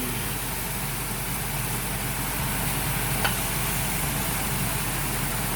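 Pork pata sautéing in a pan at home for pochero, a steady, even sizzle with a constant hiss and no talk.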